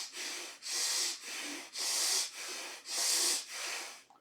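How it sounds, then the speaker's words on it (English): Slow, deep belly breathing during a guided meditation, with about six soft, airy breaths alternating inhale and exhale in a steady rhythm, close and quiet with no talking. "Let us start with the belly breathing."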